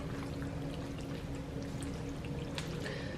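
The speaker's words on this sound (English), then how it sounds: "And then let me add in the sauce. Make sure it doesn't overflow." Sauce pouring into a tuna noodle casserole makes a continuous close, steady liquid pour with small splashy drips throughout.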